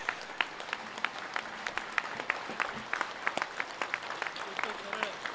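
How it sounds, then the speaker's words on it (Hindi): Crowd at a yoga event clapping in a brisk rhythmic beat, sharp repeated claps heard at a moderate distance with voices mixed in beneath them. "जोर से ताली बजाओ"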